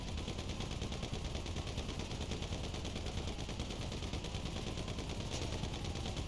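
Continuous rapid gunfire in Grand Theft Auto V, aimed at an aircraft's wings, a steady unbroken rattle of automatic shots heard alone at moderate level.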